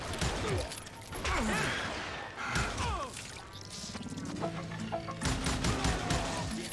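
Gunfire and impacts in the Western shooter Call of Juarez: Gunslinger, a dense run of close shots, cracks and thuds overlapping with game music and effects.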